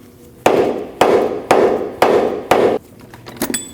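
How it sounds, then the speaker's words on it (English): A rubber mallet strikes the lower control arm of a 2003-2008 Subaru Forester five times at an even, roughly half-second beat, each blow a loud, close, dull thud, followed by a few softer knocks. "you want to hit your lower control arm with a rubber mallet to try to separate your ball joint from your knuckle"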